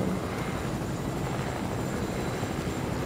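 A video game helicopter drones steadily and loudly throughout, a dense rotor and engine rumble with no break, alone without voices.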